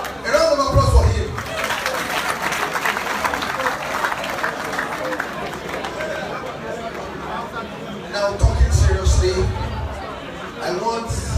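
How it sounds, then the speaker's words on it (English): An audience applauds over continuous crowd chatter at an international youth gathering, with louder bursts of clapping near the start and again toward the end. "A round of applause for him."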